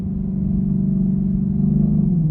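A Camaro V8 pulls through the gears at low revs, a deep steady engine rumble heard from inside the car that rises slightly in pitch near the end, with no talking.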